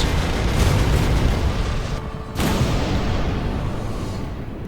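Assault guns firing a volley in the space battle game Sunrider Liberation Day: a loud, sustained rumbling barrage of booms and blasts, broken by a brief dip and then a fresh burst, with no talking.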